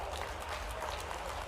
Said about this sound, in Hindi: आप ताली वाली बजाते जाओ।